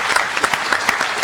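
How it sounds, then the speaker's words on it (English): A conference audience at a federal government wiki event applauds in a dense, even round of clapping, loud and continuous from start to end. "I'm going to ask for a round of applause in a second"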